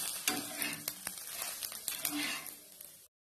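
Jackfruit seed dosa frying on a hot pan, a soft crackling sizzle with a few sharp clicks of a spatula, close and quiet, lasting about three seconds before cutting to silence.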